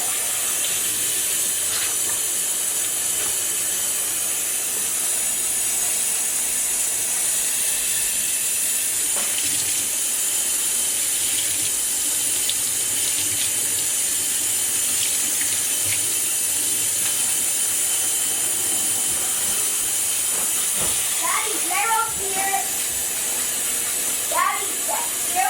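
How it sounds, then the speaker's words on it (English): Hands are washed under a running tap, a steady hiss of flowing water filling the scene at close range, with faint handling sounds near the end. "I'm going to go wash my hands"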